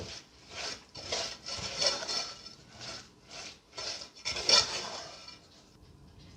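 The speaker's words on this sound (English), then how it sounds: "And of course, finally, the crushed pecans. And we give this a nice stir." A spoon stirs crushed pecans into a vegan, gluten-free pecan pie filling, making a steady run of close, soft rasping and scraping strokes in an even rhythm.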